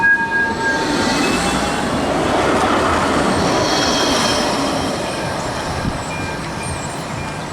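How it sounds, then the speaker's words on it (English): Blackpool tram rolling along street tracks close by, a steady rumbling roar of wheels with faint high squeals, swelling as it passes and then fading away. "this tram's going back down to Stargate"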